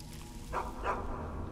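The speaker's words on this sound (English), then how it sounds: "Hello, stray dog." A stray dog in the game Skyrim gives two short barks about a third of a second apart, moderately loud over a steady low background hum.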